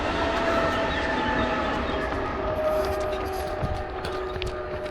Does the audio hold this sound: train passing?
yes